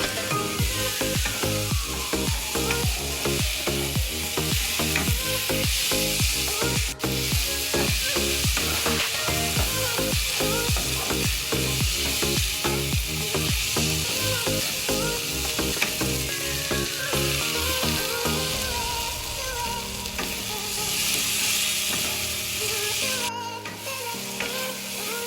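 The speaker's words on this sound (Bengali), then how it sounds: "এবারে ভেজে রাখা চিংড়ি মাছগুলোকে দিয়ে দেব। এবারে ভালো করে নাড়াচাড়া করব।" Fried prawns being stirred into a thick onion curry in a pan, with a steady loud sizzle and repeated spatula scrapes and knocks throughout, no voices.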